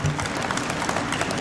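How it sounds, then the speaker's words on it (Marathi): An audience applauds at a lecture event, a dense even wash of clapping filling the hall at steady volume without pause. "टाळ्या वाजवायला कचरू नका."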